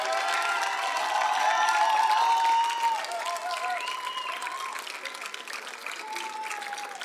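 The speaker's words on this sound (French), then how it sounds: "une bonne main d'applaudissements pour tout le monde" A crowd at a high-school talent show final in the Laurentides gives sustained applause and some cheering, loud at first and then easing to a steady, softer clapping.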